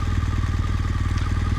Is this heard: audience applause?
no